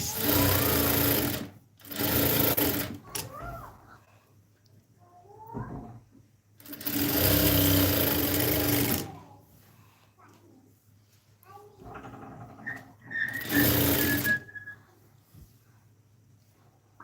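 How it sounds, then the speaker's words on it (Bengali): A sewing machine stitching fabric runs in several loud bursts of a couple of seconds each, separated by pauses in which people talk quietly nearby. "এই যে আবার প্রথম থেকে সেলাই করে নেব দেখ"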